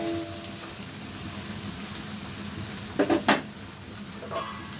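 Taro stem curry stirred in a pot, a soft continuous scraping under a low background hum, with a few sharper clinks of the utensil against the pot near the end.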